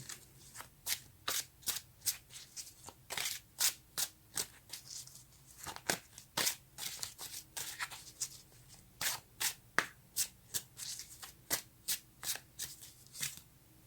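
Tarot cards are shuffled repeatedly near the microphone, a long run of quick riffling bursts in an irregular rhythm with brief pauses between, against a quiet room and no talking.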